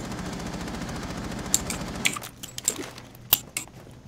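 Gunfire in Rainbow Six Siege: a rapid automatic burst rattles steadily for about two seconds, followed by scattered sharp single shots and clicks.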